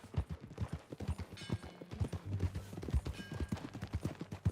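Horse hooves clip-clop at a steady walking rhythm in Red Dead Redemption 2, close and continuous, with faint background game ambience and brief voices.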